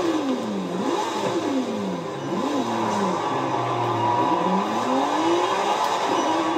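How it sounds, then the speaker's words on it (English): A Lamborghini Sián R Roadster in a video game drag race, its engine revving hard with repeated rising and falling pitch sweeps over a constant loud roar, close and continuous. "Do a little drag race here, hoping nobody crashes into us."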